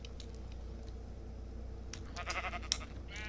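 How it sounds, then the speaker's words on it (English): Faint sheep bleats rise over a steady low background hum in the video game Zoe's Lab 2, with a short cluster of bleats near the end. "And there are still some sheep around here like Sparkles Jr. and Blossom itself."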